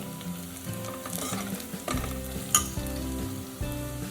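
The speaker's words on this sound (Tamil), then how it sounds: "இப்போ சில்லி பவுடர் போட்டு நல்லா வதங்கிட்டோம்" Chilli powder sizzles and fries in oil for a mutton keema gravy, a steady close crackling sizzle with stirring scrapes, and music plays underneath.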